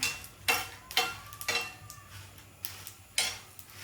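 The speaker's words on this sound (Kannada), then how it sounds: "ಎಣ್ಣೆ ಹಾಕಿ ಸ್ವಲ್ಪ ಚೆನ್ನಾಗಿ ಒಣಮೆಣಸಿನ್ಕಾಯಿ ಒಂದು 20 ಮೆಣಸಿನ್ಕಾಯಿ ತೊಗೊಂಡಿದ್ದೀನಿ. ಚೆನ್ನಾಗಿ ಫ್ರೈ ಮಾಡ್ಕೋಬೇಕು ಇದನ್ನು" Dry red chillies frying in oil in a pan while making Mandya-style uppsaru khara, heard as a soft sizzle broken by repeated sharp scraping and clinking strokes of a spoon stirring against the pan, close and fairly quiet.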